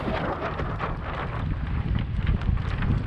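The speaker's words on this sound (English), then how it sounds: "look at that gust. You see that gust coming?" A strong wind gust roars across a sailboat under sail, a steady loud broadband rush with buffeting that swells slightly toward the end, no voices.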